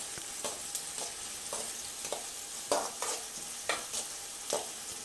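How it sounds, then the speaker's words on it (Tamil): Onions and tomatoes sautéing in a pan for crab gravy: a soft, steady sizzle broken by regular scraping spoon strokes, moderately faint and without speech. "அது நல்லா அலுப்பு பார்க்காம நல்லா அதை வதக்கணும்."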